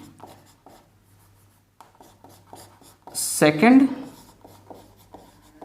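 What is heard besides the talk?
writing on the board during a maths lesson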